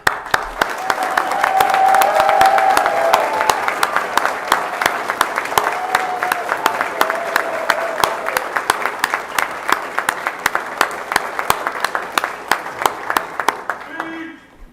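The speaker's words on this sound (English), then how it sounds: "We applaud you, and I appreciate it." A city council meeting audience applauds a 30-year service award, sustained room clapping with distinct individual claps, swelling early and then gradually thinning out before stopping.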